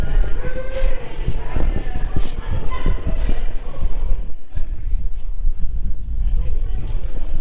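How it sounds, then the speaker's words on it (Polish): Wind gusts outdoors in Luxembourg, buffeting the microphone with a loud, rumbling roar that rises and falls in bursts, briefly easing before picking up again. "A tu wieje."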